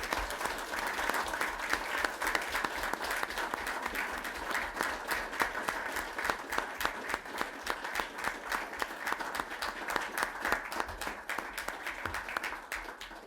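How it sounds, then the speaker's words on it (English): An audience at a city commission meeting applauds a girls' state champion hockey team as the players enter, a sustained, even round of clapping from a room full of people. "I would give them all a round of applause as they come in"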